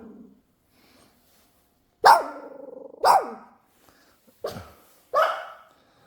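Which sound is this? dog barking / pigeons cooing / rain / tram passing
dog barking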